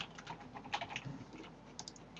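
Quiet, close typing on a computer keyboard, a quick irregular patter of key taps during a coding tutorial, with no talking.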